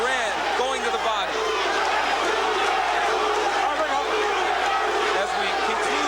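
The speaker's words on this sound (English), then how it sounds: "As we conclude round 5 again, the crowd picks up the chant of Duran's name." A boxing arena crowd at the 1989 Duran v Barkley WBC title fight roars and chants Duran's name as round five ends, a loud continuous wall of massed voices with rhythmic chanting rising through the noise.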